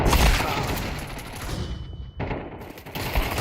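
Video game gunfire crackles in loud, rapid automatic bursts, a dense fusillade that briefly breaks off midway before the shooting resumes.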